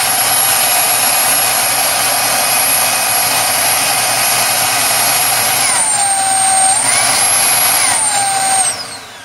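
A Dyson DC22 vacuum cleaner runs with a loud, steady motor whine and rushing airflow, its pitch dipping and rising as the power mode shifts before it winds down at the end.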